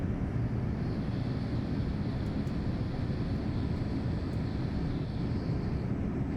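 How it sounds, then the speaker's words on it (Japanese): Steady, dense low roar of jet engines and cabin air fills an airplane cabin during landing approach into Haneda, a constant drone without pause, with no voices. "羽田着陸が近づいてきましたが"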